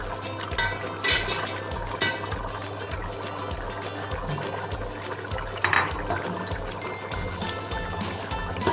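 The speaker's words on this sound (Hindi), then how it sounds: "उसके बाद इसमें मैं दही ऐड करूँगी" Yogurt (dahi) goes into a pot of mixed vegetable pulao with soft wet plops and squelches, over a low steady background hum and intermittent clinks.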